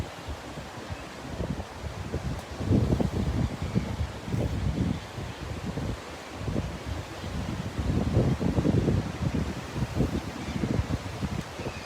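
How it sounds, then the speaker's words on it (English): Gusty wind buffeting outdoors by a river in Tours, Loire Valley, France, rising and falling in strength with rumbling bursts across the mic; no voices. "It's a little windy out here."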